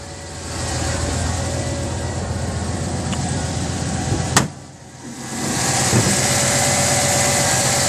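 A 1995 truck's throttle-body-injected 350 V8 with new exhaust manifolds idles steadily and loudly close by, with a continuous rumble, a brief sharp click partway through, then the idle settles back in.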